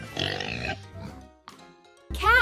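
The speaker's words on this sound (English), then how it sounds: "This is a pig." A pig oinks in short grunting bursts, close and fairly loud, split by brief pauses.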